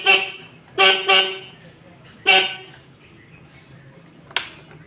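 Horn on a Suzuki RC100 motorcycle gives several short toots: a burst at the start, a close double beep, another beep, and a faint final tap, over a quiet background.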